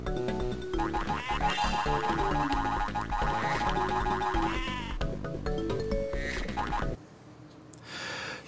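Cartoonish sheep bleats from the video game Spyro: Season of Ice, several wavering calls layered over bouncy game music, ending in a sharp drop to a quieter sound.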